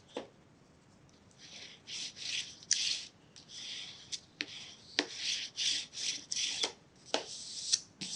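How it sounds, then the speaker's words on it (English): Paper being burnished by hand onto a chipboard junk journal book, giving repeated short rubbing and rasping strokes in bursts, close and fairly quiet, with brief pauses between passes. "So we're going to go ahead and burnish early."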